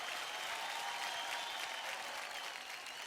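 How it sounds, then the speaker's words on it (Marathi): A television dance show audience claps steadily in dense, even applause, faint and continuous for a few seconds with no talk over it. "जोरदार टाळ्या होऊन जाऊन देत."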